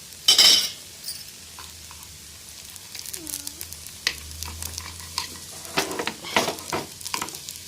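Sweet gunta ponganalu fry in ghee in a pan, a low sizzle broken by a sharp clatter at the start and scattered scraping taps as they are turned.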